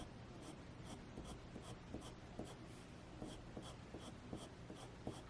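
A Koh-I-Noor Magic jumbo colored pencil with a freshly sharpened tip scratches across paper in quiet, rhythmic back-and-forth strokes, close and soft, with no voices.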